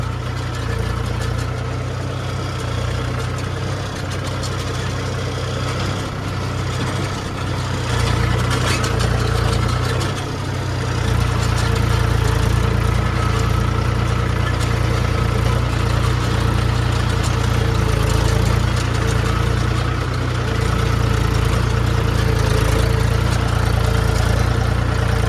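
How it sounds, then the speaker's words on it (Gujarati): A tractor engine runs steadily on a dam slope, a loud, continuous low rumble and drone that holds for the whole stretch with slight shifts in level and no voices. "દેખાય ઉપરથી એક ટ્રેક્ટર આવે છે."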